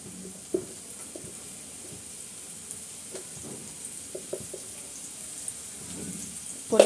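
Chopped garlic and onion fry in a little oil with a soft, steady sizzle, and a utensil stirring the pan makes scattered light clicks and scrapes.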